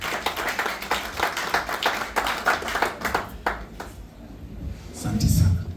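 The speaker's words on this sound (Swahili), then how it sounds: "Tumpigie makofi" Audience applause at a church gathering: a dense patter of many hands clapping for about three seconds, then thinning out into murmuring voices and a low rumble near the end.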